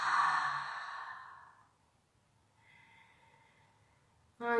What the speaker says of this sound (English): Maybe exhale out of the mouth.